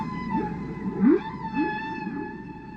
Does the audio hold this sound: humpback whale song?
yes